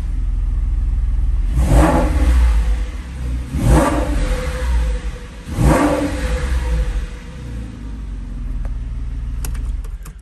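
A 2007 Porsche 911 Carrera 4S 3.8-litre engine with sports exhaust revs hard three times in quick succession, each sharp rise in pitch fading back to a steady low idle rumble.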